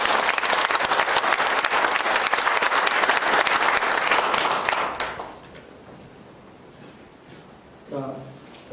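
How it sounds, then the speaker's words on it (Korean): An audience applauds during an agricultural cooperative's headquarters completion ceremony, dense clapping for about five seconds that then cuts off, followed by quiet room noise and a brief voice near the end. "큰 박수 부탁드리도록 하겠습니다."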